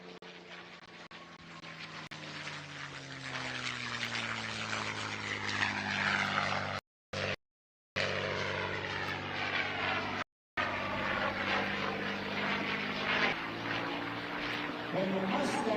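A P-51 Mustang fitted with a Rolls-Royce Merlin engine flies past at an air show, a loud propeller drone that shifts pitch as it passes, with brief dropouts and an announcer talking over it.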